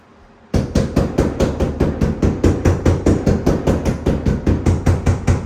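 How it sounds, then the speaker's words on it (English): A soft rubber mallet taps tile during a shower installation, striking in a fast, even series of close, solid knocks that continue without pause. "This is where your mallet comes in. Soft rubber end."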